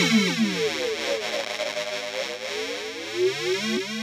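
Meris Enzo synth pedal producing a swirling, sweeping synth tone with heavy modulated filter movement and distortion, continuous and moderately loud, no voices.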